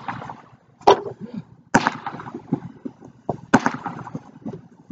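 Sharp firework bangs pop at close range, three loud cracks spaced about a second apart with crackling and rumbling between them.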